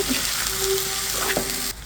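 Vegetable mash with onion and salt fries in a pan for a bhorta, a steady, close, bright sizzle with soft stirring that cuts off abruptly near the end.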